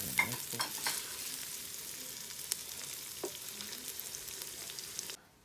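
Garlic and ginger frying in a pot for chicken korma: a continuous close, bright sizzle broken by occasional spoon clicks and stirs, then cutting off abruptly.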